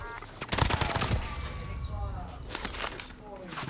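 Rapid automatic gunfire from a Call of Duty Cold War match, bursts of shots crackling close and loud, mixed with scattered game effects and players talking over the action.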